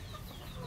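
A Dekalb Brown hen clucks after laying an egg, a short, soft burst of clucking in a farm setting, fairly faint and brief.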